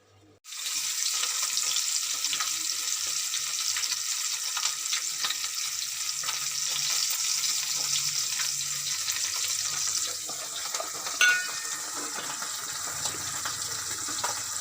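Small fish coated in salt and turmeric frying in a pan, a steady broad sizzle running the whole time at close range with no talking.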